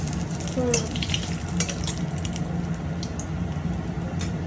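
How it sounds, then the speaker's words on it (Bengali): Dried red chillies and a bay leaf sizzle in hot oil as a tempering, a dense crackling hiss with faint utensil scrapes and stirring, no talk. "শুকনো লঙ্কা ফোড়ন দেব, আর তেজপাতা,"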